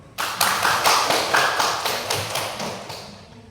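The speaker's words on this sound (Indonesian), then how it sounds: "Tepuk tangan untuk Sema dulu." Classroom applause from a group of students, a sudden burst of hand clapping that starts strong and gradually fades over a few seconds, with no talking.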